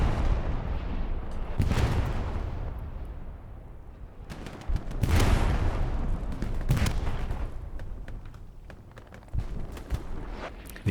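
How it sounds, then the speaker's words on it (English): Artillery shells explode repeatedly in the World War II shooter Hell Let Loose, heavy booming blasts arriving every second or two with rumbling tails, loud and mid-distance, mixed with scattered gunfire. "Gotta watch out for that artillery strike there."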